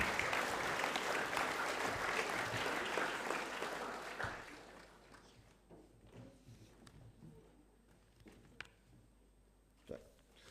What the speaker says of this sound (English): A round of applause for all of those students.